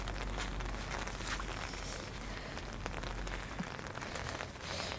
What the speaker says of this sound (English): this is just being really weird, this rain